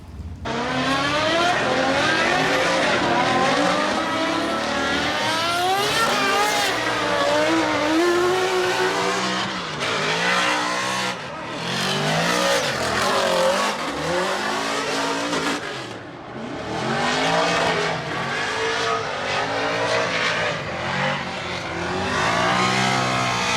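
Formula Drift practice laps at Orlando: a drift car's engine roars and revs continuously, rising and falling with throttle, over long stretches of tire squeal and skidding, loud and close throughout with no talk.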